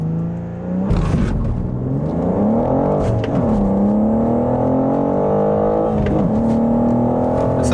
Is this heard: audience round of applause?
no